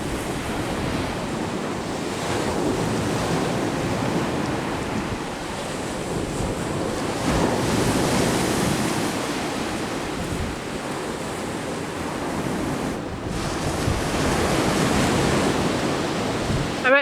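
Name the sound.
waves hitting rocks and splashing, wind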